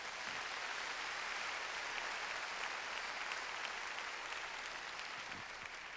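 A church congregation claps together during a sermon, a continuous, even roar of applause filling the space from start to finish without pause.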